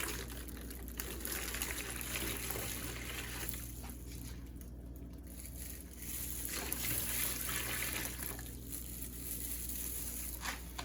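Water is poured into a mixing container while watercoloring a blonde wig. A soft, continuous trickle and splash runs close by for about ten seconds, swelling and easing in a few spots, with no talking.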